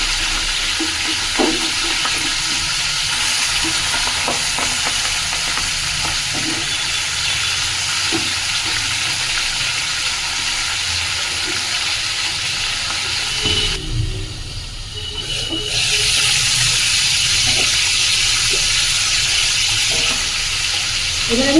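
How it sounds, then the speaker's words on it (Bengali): Boal fish frying in hot oil gives a steady, loud, crackling sizzle throughout, dipping briefly and quieter partway through before swelling back to full strength. "এবার আমি মাছটা আমার ভাজা হয়ে গেছে"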